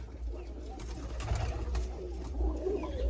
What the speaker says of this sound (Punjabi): ਇੱਧਰ ਵੀ ਬੈਠੇ ਆ ਕਬੂਤਰ